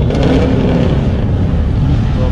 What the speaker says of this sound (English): People are gonna start revving their motors, ready to roll.